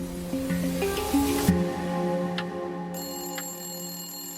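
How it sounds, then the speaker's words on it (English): A telephone rings late at night with a steady high electronic ring tone entering partway through, over a low sustained musical drone, no voices. "Not long after, the phone rang."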